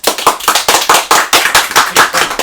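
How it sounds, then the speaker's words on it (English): Applause for a quiz team being introduced at a quiz show: a short burst of brisk, fairly loud clapping from a small group, the sharp claps packed closely together throughout. "Round of applause, by the way."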